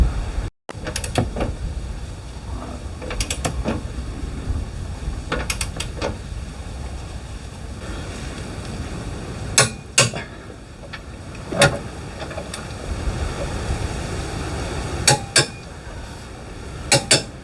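A ratchet wrench tightens the bolts of a front tow hitch on a tow vehicle, giving quick bursts of metallic clicking separated by pauses, with occasional louder clanks of tools against metal, close and clear.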